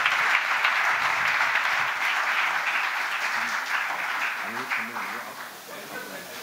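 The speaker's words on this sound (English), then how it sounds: "Can we have a round of applause for our next gen members?" Sustained applause from an audience at a NAREDCO NextGen real estate event, dense steady clapping that slowly fades toward the end, with faint voices audible underneath.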